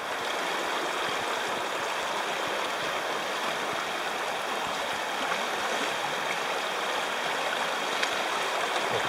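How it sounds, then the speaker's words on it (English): A river running high in eastern Oregon rockhounding country rushes in a continuous, dense broadband roar, steady and close throughout with no talk. "this particular river is a little too high for my liking"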